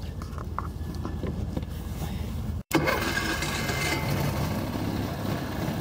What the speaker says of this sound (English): Generator's right down here. You can start it from out here or inside.